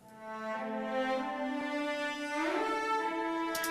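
A small string ensemble of about three cellos from the Spitfire Sable library plays a sustained, warm chord that swells in the middle and holds steady to the end, with no voices present.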